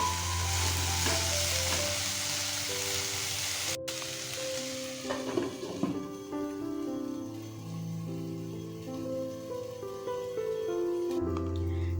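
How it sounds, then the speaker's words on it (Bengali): Tomatoes being stirred into puishak and mituli greens in a hot pan with fish oil, a steady close sizzle with soft scraping and occasional clinks, continuing throughout with no talk. "এবার এর মধ্যে দিয়ে দেব টমেটো। আবারও নাড়াচাড়া করে ঢাকা দিয়ে রাখবো।"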